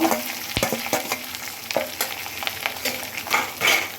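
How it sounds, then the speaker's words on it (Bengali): Boiled rice stir-fried in hot oil for egg vegetable fried rice, a close, loud sizzle with repeated scraping and tossing of a spatula in the pan, irregular bursts, no talking. "দিয়ে এটাকে এখন আমি অনবরত ভাজবো।"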